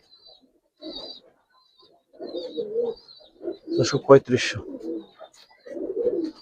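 Pigeons cooing close by in short bursts, low murmuring coos repeating several times with brief pauses, while someone speaks over them.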